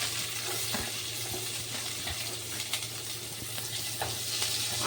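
Onions frying in hot reused oil for chicken fried rice, a dense, steady close sizzle with light stirring scrapes throughout and no talk.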